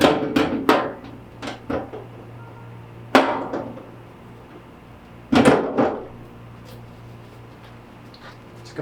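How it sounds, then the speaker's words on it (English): A metal end panel of a Legrand Mighty Mo 20 raceway drops onto screws, giving a few sharp clattering knocks and rattles, with a couple of louder impacts spaced apart in a quiet room. "I'm going to pick up my end panel and drop it into place"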